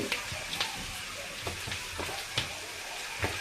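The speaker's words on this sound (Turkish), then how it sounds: "Güzelce yağımızı bu şekilde kızartıyoruz" Soft, steady sizzling of oil in a pan, with occasional light clinks and pops scattered through, while cooking a Turkish green bean and egg dish.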